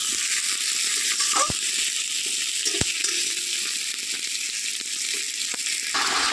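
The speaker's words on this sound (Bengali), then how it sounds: "এটা দিয়ে ভালো করে আমি একটু ভেজে নেব পেঁয়াজ রসুনের সাথে টমেটোটা একটু ভালো করে" Tomato fries with onion, garlic and green chilli in a pan, making a continuous soft sizzle broken by a few sharp taps and rattles, as if stirred now and then.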